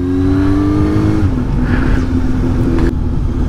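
A 2019 Suzuki GSX-S750 motorcycle engine runs loud and close while riding, holding a steady drone that drops in pitch as the rider eases off, then settles at a lower even tone.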